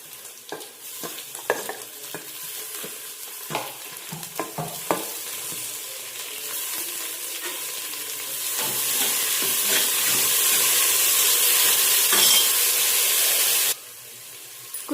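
Mint and coriander leaves frying with onions in oil for mutton biryani, a steady loud sizzle with repeated spatula scrapes and stirring, the hiss swelling stronger toward the end before cutting off.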